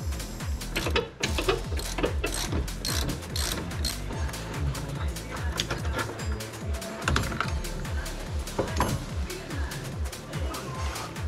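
A ratchet wrench loosening a nut on the rear axle of a BMW E36 under repair, a steady rapid clicking of the pawl that runs almost continuously, close and clear, with a brief pause early on.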